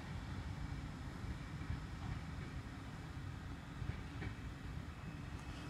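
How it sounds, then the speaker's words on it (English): A track cleaning multi-purpose vehicle departs Alton station, rumbling steadily, a low continuous roar with faint clicks, at a moderate distance. "That is the track cleaning MPV. Heading off to Effingham Junction CHS."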